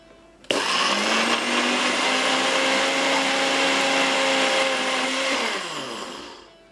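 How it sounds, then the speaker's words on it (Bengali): A kitchen blender whirs steadily for about five seconds as it grinds dried shrimp with onion and spices for a Bangladeshi shutki bhorta, starting abruptly and winding down at the end, loud and alone. "আমরা এটাকে ব্লেন্ডারে দিয়েছি।"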